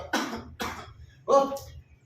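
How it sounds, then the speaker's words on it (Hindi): Harsh, loud coughing from a man in an early-morning coughing fit, three rough bursts in quick succession with short gaps between them. "अर्ली मॉर्निंग का खांसी का दौरा नहीं जाता।"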